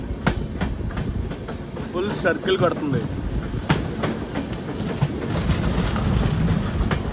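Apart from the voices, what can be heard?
train running on tracks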